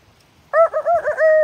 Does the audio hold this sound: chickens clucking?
yes